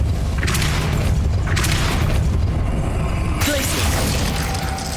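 A Depulso force spell cast in Hogwarts Legacy on PC, heard as loud booming magical bursts, one near the start and another midway, over a dense rumbling game soundscape.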